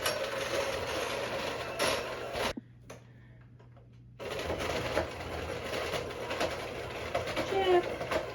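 An electric mixer creams butter for gluten-free devil's food cookies, a steady whirring and ticking close by that cuts out briefly, then resumes.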